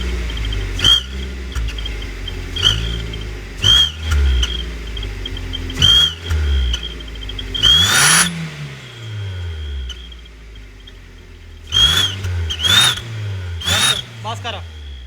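A modified tractor exhaust barks through a series of loud, close revving bursts. The engine repeatedly climbs and falls, with one longer sweeping rev in the middle and quieter idling gaps between the blips.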